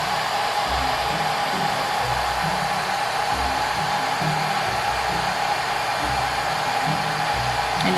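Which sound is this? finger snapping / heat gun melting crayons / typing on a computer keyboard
heat gun melting crayons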